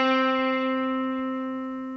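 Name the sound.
sustained guitar note with no vibrato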